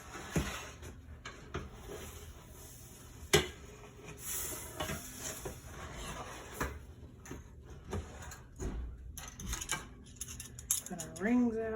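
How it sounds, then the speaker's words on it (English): Metal jar lids and rings for canning blackberry jam clink and rattle as they are taken out, a string of close, sharp clatters and taps with scattered quieter handling noises. "Okay, so now we're going to get our lids out."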